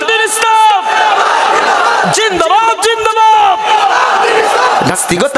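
A large crowd at a religious gathering chanting the slogan Nara-e-Takbir in loud unison, rhythmic shouted calls and responses, with a leader's voice over the massed voices.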